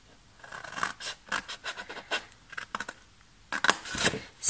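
Scissors snip and rasp through paper or thin cardboard in a run of short, uneven cuts with brief pauses between them, close and fairly quiet, while parts are trimmed away for a desk pencil organizer.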